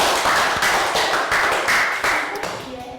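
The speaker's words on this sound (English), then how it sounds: "give yourselves all another round of applause for a good exercise" A class of Year 3 pupils gives a round of applause after an exercise, a dense, close burst of many hands clapping for about two seconds that then tapers off.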